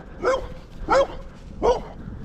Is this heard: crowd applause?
no